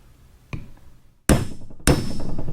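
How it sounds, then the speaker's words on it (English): Metal drift hammered to drive the seal out of a Ford Powerstroke 6.4 high-pressure fuel pump: one light tap, then two loud, sharp blows about half a second apart, each ringing briefly. "I've got a precision tool here to drive the seal out of the other side of this pump"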